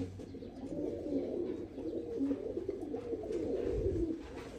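Pigeons coo steadily in a breeding loft, several birds layering soft, low, rolling calls at moderate distance with continuous background murmur.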